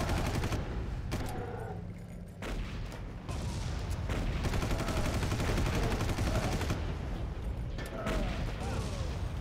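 Gunfire in the video game Far Cry, sustained rapid shots layered over a dense, steady wash of battle noise, with brief pauses between bursts.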